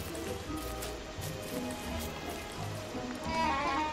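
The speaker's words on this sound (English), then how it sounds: "Ooh, it's raining." Rain in the video game Don't Starve falls steadily as a soft, even hiss of drops on surfaces, with faint low animal-like bleats in the background.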